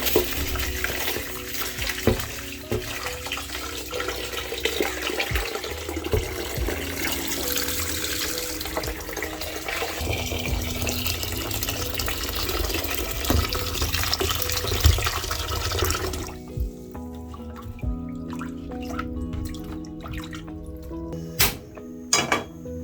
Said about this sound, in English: I'm going to start off by washing my rice 2 to 3 times till the water runs clear.